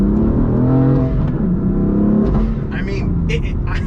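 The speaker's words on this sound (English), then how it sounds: "a high-performance luxury car that's going to throw you back in your seat every single time you drive it" A BMW M4 with a 500-horsepower engine revs and accelerates, a loud continuous engine roar that climbs in pitch throughout.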